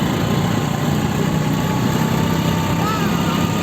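A motorcycle engine idles with a steady, loud buzzing drone close by, running continuously beneath background voices on a roadside trip home.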